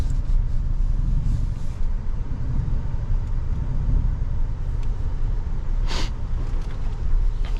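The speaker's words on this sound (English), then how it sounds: "The sound is so amplified, it sounds like a V8." From inside the cab of a 2024 Toyota Tundra TRD Pro, the engine drones as a steady, loud low rumble throughout, with a short higher whoosh partway through.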